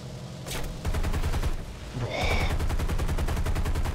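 Aircraft cannon fire in War Thunder, rapid rhythmic bursts of heavy gunshots that run almost continuously, loud and close, with a brief pause before a fresh, denser stream of shots.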